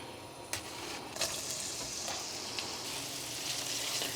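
Chopped onion sautéing in butter in a pan for butter chicken, a soft continuous hiss of sizzling with a few faint clicks of a utensil, close by and without speech.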